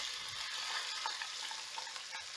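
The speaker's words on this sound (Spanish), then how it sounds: "Y vamos a sofreír esto hasta que esté bien frita la cebolla" Onion and chicken filling for Tucumán-style chicken empanadas frying in hot oil, giving a steady, close hiss and crackle throughout with no talk.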